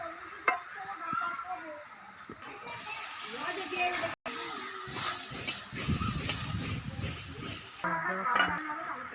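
Water poured into a pan of frying Bengali-style spinach curry, giving a steady sizzle and bubbling with stirring scrapes, a brief dropout midway and a louder hiss surge after, under talk throughout.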